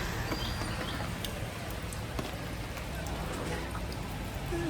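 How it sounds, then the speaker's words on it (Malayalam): Light rain with small, scattered drops falls outdoors, a steady soft hiss of fine patter that holds evenly throughout without pauses. "മഴ ഏകദേശം മാറിയിട്ടോ കുറച്ച് ചെറിയ ചെറിയ തുള്ളികൾ മാത്രമേ ഉള്ളൂ"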